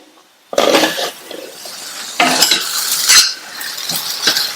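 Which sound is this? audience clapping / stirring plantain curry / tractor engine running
stirring plantain curry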